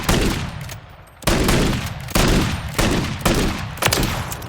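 Paired Winchester Model 1887 lever-action shotguns in Call of Duty Modern Warfare III fire five heavy booming shots at a steady, roughly one-per-second pace, each blast loud and close with a short decaying tail.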